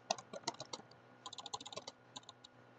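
Keys clacking on a computer keyboard while a Python print statement is typed, in quick uneven bursts of crisp clicks with a short pause in the middle, close and fairly quiet, with no talking.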